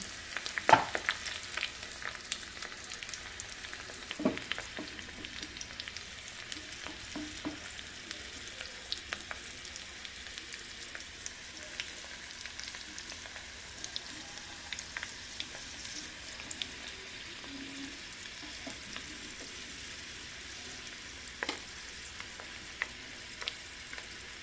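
Garlic tempering for dal sizzles in hot oil, a quiet continuous crackle with occasional sharper pops and stirring clinks, no talking.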